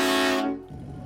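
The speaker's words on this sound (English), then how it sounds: "train horn button" A train horn fitted to a van converted into a boat gives one loud, sustained blast that cuts off abruptly, leaving low engine rumble.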